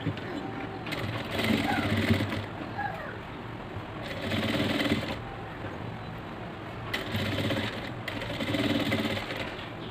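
A sewing machine stitches the edges of a chudidhar sleeve border in bursts of steady whirring, three or four runs with pauses, close by, with someone talking in the gaps.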